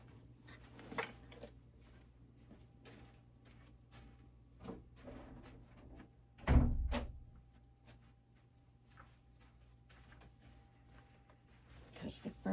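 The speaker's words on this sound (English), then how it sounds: "I'm going to shut my door." A single sharp thump of a door closing mid-clip, set against quiet room noise and a low steady hum, with soft rustling and handling sounds around it.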